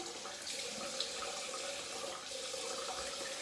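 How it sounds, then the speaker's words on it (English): Steady water runs from a tap for a rinse, a continuous close splashing stream that holds even and unbroken from start to finish with no voices. "I'm gonna rinse first."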